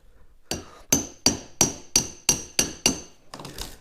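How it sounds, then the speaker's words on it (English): A hammer strikes a steel ball joint buster about eight times in a quick, even rhythm, each hit a sharp, close metallic clang. "So I got a hammer and a U-joint buster or ball joint buster."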